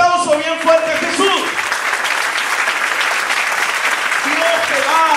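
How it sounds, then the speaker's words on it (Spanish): A church congregation bursts into strong, steady applause for Jesus, with voices and cheers mixed in at the start and end. "Dale un aplauso bien fuerte a Jesús."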